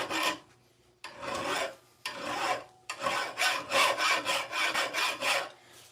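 A metal file rasps across an old rusty tool in repeated back-and-forth strokes, a few slow passes giving way to a quicker steady rhythm of about nine strokes, close and alone.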